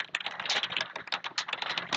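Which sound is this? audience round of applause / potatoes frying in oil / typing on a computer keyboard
typing on a computer keyboard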